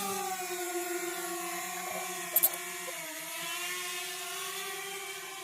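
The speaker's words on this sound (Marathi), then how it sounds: "चला मस्तपैकी ड्रोन शूट करू" A camera drone hovers over a dry riverbed in a Maharashtra village, its rotors giving a continuous high, steady whine with faint tonal shifts and a brief click partway through.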